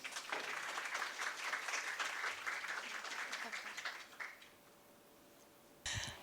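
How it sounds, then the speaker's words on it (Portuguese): Audience applause at a lecture on Okinawa scholarships as a speaker is called to the stage, with dense clapping that holds steady for about four seconds, then trails off into quiet before a sudden burst of noise at the end. "uma salva de palmas"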